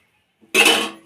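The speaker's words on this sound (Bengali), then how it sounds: "নামিয়ে দিয়েছি, দিয়ে এটা কড়াটা বসিয়ে দেবো।" A wok (kadai) is set down on a stove with a single loud metallic clank that rings briefly, preceded by a soft touch and followed by a faint second contact.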